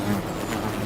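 Bees buzzing, a steady low drone that continues unbroken throughout at moderate level, with no voices.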